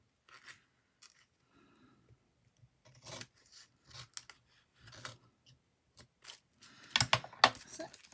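Scissors snipping through a paper craft piece while decorating a floating tag, a few quiet short cuts building to a louder burst of rasping snips near the end, with no talking.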